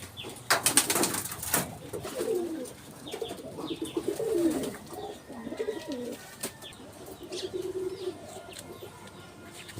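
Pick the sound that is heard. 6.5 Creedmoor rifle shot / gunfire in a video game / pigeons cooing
pigeons cooing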